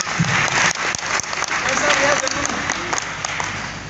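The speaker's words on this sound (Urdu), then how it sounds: "تالیاں تو مار دیں" An audience at a health talk applauds in a dense, steady wash of clapping, with a voice speaking faintly beneath it.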